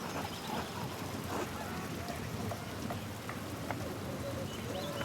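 Steady rain falls in the video game Pentiment, a dense, even patter of drops that continues without a break, with scattered brighter drips on top.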